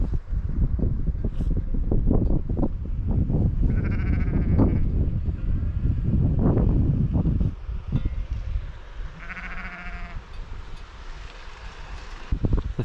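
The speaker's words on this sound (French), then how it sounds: "Il y a beaucoup de moutons, de vaches." Sheep bleat repeatedly on an open mountain pasture near a stream in the Pyrenees, close and fairly loud over steady wind noise, with several distinct calls spread across the stretch.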